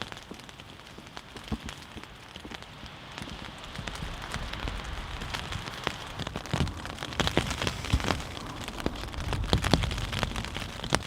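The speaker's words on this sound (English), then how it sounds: "it has been raining a good part of the night. So we're just hanging in the tent" Rain patters steadily on a tent surface while camping at Rollins Pass, Colorado, a dense spray of drops with occasional louder taps, building slightly over time, no talking.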